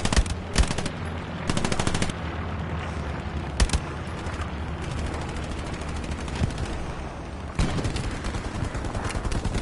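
Sustained automatic machine gun fire in the World War II shooter game Hell Let Loose, loud bursts with sharp peaks near the start and a renewed stretch of rapid fire toward the end, over constant battlefield rumble.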